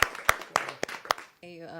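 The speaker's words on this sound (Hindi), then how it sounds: "एक बार जोरदार ताली के साथ स्वागत करें" Audience at a Hindi poetry gathering (kavi sammelan) gives a few sharp, separate claps spread over about a second, close and fairly loud, then a voice begins speaking as the clapping stops.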